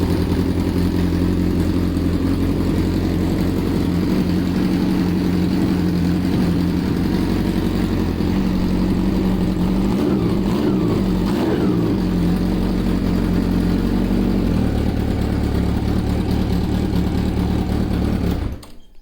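A motorcycle engine that has just started after carburetor work runs steadily close by, idling with rhythmic pulsing and occasional rises in revs, then cuts off abruptly at the end.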